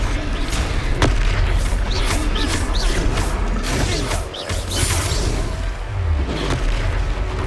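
A blasting spell detonates in a Harry Potter video game, one heavy boom followed by crashing debris and rumbling mechanical noise, loud and continuous over a dense game soundtrack.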